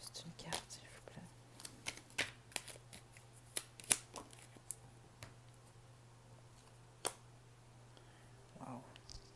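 Tarot cards being shuffled and drawn: soft, sparse, close clicks and flicks of cards at irregular intervals over a low steady hum, with quiet speech in places.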